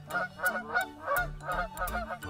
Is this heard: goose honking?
yes